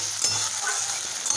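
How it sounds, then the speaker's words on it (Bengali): Peas and carrots fry in oil in a wok with a steady, close sizzle, stirred now and then with soft scraping, all without talk. "খানিকক্ষণ কড়াইশুঁটি আর গাজরটা ভেজে নেব।"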